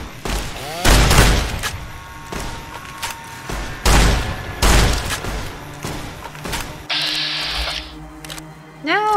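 Gunfire in the video game Fallout New Vegas: a handful of loud, sharp shots spaced irregularly across several seconds, mixed with game effects and a voice speaking between the blasts.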